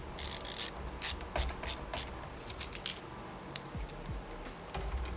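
Small screws threaded by hand into a PC case during a build, giving a soft repeated ratcheting scrape of metal on metal with light rubbing, close and steady with no talk.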